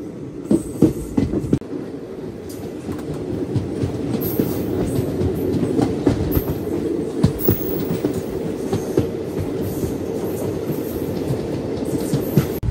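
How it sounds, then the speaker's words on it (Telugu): A Guntur to Narsapur passenger train rolls into Gudivada Junction, its wheels clattering steadily over the rail joints with occasional sharp clanks and squeals, loud and close throughout with no talking. "ఇప్పుడే గుంటూరు నుంచి నర్సాపూర్ వెళ్ళేది ట్రైన్ ఒకటి అయితే వస్తుంది ప్లాట్ఫామ్ నెంబర్ 1కి."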